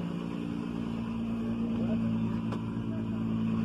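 A Nissan Maxima's engine idles and revs nearby, a steady low rumbling drone with a slight rise in intensity, heard alone without talk.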